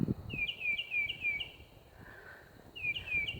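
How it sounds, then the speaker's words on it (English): Birds chirp at night in quick repeated bursts of high, bright notes, a short run of calls followed by a pause and another run, over faint background noise. "They're just chirping up a storm."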